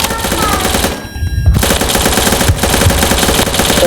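Loud rapid automatic gunfire from a gun in the Roblox video game rattles almost continuously, broken by one brief pause before the bursts resume.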